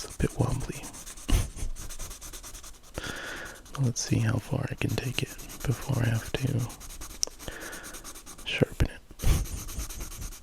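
Colored pencil scratching and rubbing across paper in steady strokes, close up, with a soft voice talking over the drawing.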